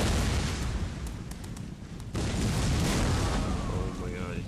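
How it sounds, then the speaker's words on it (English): Rockets and missiles launch and burst across a Napoleon: Total War battlefield, a dense roar of booming explosions and crackling fire with sharp pops and a sudden louder surge partway through, and someone talking faintly beneath. "Look at the missiles, rockets, they're coming."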